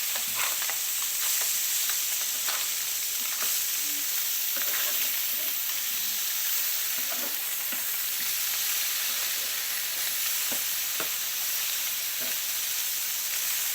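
Fish fillets sizzle steadily in a hot frying pan, with a continuous close frying crackle and a few soft scraping clicks as the pieces are turned over, no voices.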